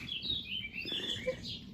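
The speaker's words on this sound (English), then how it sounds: "it was so quiet, like apart from birds chirping and us talking" Birds chirping in a backyard in Malaga, Andalucía, Spain, a few quick high tweets and short calls in a quiet outdoor setting, moderately near.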